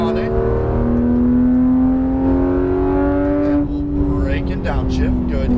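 A Porsche 911 GT3 RS of the 991 generation accelerates hard on a racetrack, its engine note climbing steadily in a loud, continuous in-car drone, with an instructor talking over it.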